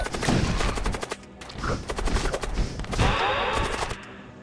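Weapon fire in the space combat game Void War, a dense, loud run of rapid gunfire-like bursts with a whooshing burst toward the end, no voices.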